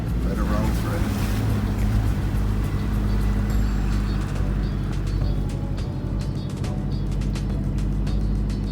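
A four-wheel-drive vehicle crawls in first gear along a beach on K'gari (Fraser Island), its engine a loud, steady low drone mixed with wind buffeting, while people talk over it now and then.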